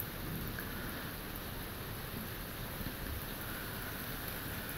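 Steady summer rain pours down in a July thunderstorm with a low rumble of distant thunder underneath, a continuous dense hiss throughout.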